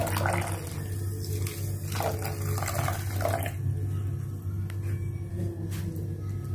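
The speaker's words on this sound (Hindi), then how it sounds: "अब हम अपने खसखास में पानी शामिल करेंगे," Water poured over poppy seeds (khaskhas) in a bowl for soaking, a steady close splashing stream running continuously throughout with no talk.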